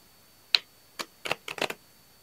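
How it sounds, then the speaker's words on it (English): Deck of Clue playing cards being shuffled by hand: a short run of soft, crisp riffling bursts and flicks, close and fairly quiet, with no talking. "I'm gonna give them a good shuffle"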